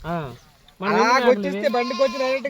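Goats bleat loudly nearby, a short call followed after a pause by a long wavering bleat with more bleating overlapping.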